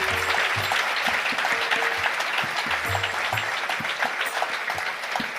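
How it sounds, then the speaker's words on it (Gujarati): A gathered congregation gives the saints a warm welcome with steady, dense applause from many hands that continues evenly throughout without speech. "તાળીથી વધાવો સંતોની સમજણ"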